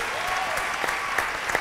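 Audience applause for a punk band at an interview, steady clapping from a small crowd, close and continuous.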